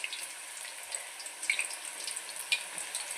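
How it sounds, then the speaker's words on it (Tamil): Plantain slices frying in hot oil for chips, a steady close sizzle with a soft bubbling hiss and occasional sharp pops, heard alone. "அப்புறம் எண்ணெயில் இந்த மாதிரி ஒன்றா வாழைக்காவை இப்படி போடுங்க."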